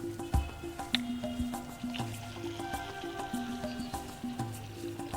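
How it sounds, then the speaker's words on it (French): Water is poured gently into a recycled bottle set up as a drip irrigation system, giving faint trickling and small plinking drips with a rising filling tone, heard close and quietly with no talking. "On va essayer de mettre l'eau dedans pour voir."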